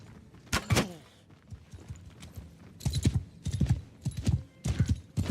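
Horse hooves clip-clop in the Old Realms Warhammer mod game, a loose run of hoof beats with one short whinny near the start, fairly close and loud, with no talk.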